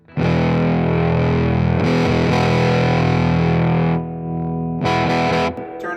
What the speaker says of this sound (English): That's your typical distortion.